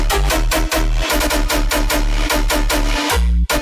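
A loud electronic bass variation from a track pulses in a steady, rhythmic pattern of deep repeated notes with bright percussive hits, each stroke trailing into a wash of reverb, continuous and close.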